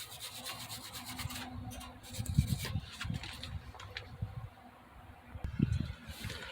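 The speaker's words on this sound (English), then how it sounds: "You just keep brushing around it until you see it smooth like this." Brushing old gasket residue off a car exhaust flange, a close, steady scratchy scrubbing with rhythmic strokes, louder bursts now and then, no talking.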